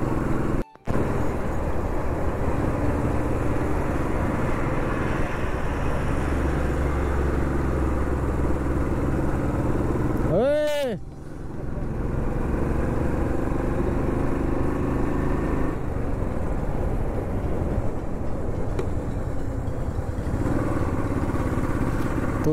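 Motorcycle riding a winding mountain road in Himachal Pradesh, with a steady engine drone and wind rush throughout and a passing vehicle sweeping by midway; no talking.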